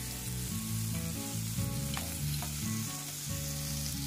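Frozen peas frying in a pan, a steady close sizzle with light stirring scrapes, heard over background music with no talk.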